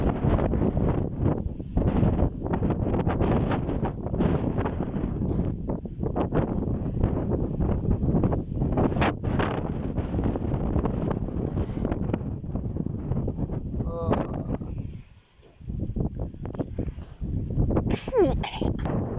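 Very strong wind gusting across an open field in August, roaring and buffeting the microphone in loud, continuous blasts with a brief lull near the end.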